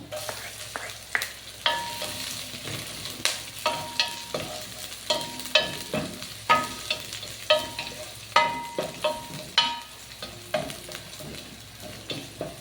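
Garlic frying in oil for chicken tinola with chayote, crackling and sizzling close by while a utensil scrapes and stirs the pan in repeated sharp strokes at an irregular pace, with no talk.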